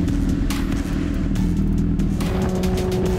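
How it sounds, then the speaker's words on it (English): A loud petrol engine revs and roars steadily nearby, its throaty drone rising and falling in pitch. "for the sound, it doesn't get better than a petrol engine"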